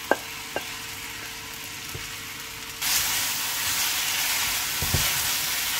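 Beef tipped into a pan of golden fried onions, a soft steady sizzle that jumps to a louder, brighter hiss partway through, with a few light clinks and no talk.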